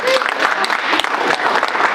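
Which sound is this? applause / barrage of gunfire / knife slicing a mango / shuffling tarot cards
applause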